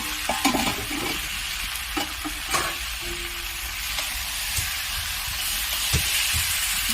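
A fish-head mixed vegetable curry is stirred in a hot pan, a soft continuous sizzle broken by scraping strokes and light clinks of the spoon, close and without voices.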